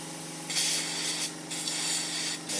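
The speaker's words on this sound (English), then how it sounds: "So we'll spray this out." Close hissing bursts from a spray can or paint sprayer, several in a row with short pauses between, over a low steady hum.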